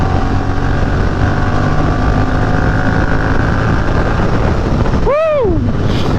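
A Ducati motorcycle accelerates at full throttle, its engine roar loud and constant from close by on the bike, with a quick voice exclamation near the end.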